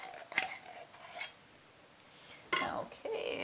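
Food from chicken crescent rolls and veggie pizza cups being scraped out of a baking pan, a few short metallic scrapes separated by quiet gaps, close and moderately faint, with no talking.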